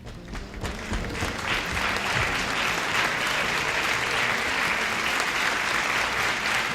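A comedy club audience bursts into sustained applause for a performer named Slurp Von Lipstick, a dense, even wash of clapping that swells in the first second and holds steady at full strength to the end.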